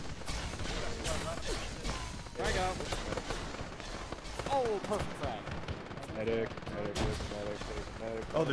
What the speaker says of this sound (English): Oh, they're shooting us from underneath.